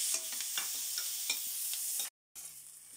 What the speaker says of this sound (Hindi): बटर के साथ ही इसमें मैं डाल रही हूँ गार्लिक बारीक कटा हुआ, और ये ऑनियन, इन सबको हल्का ब्राउन होने तक हमें भूनना है।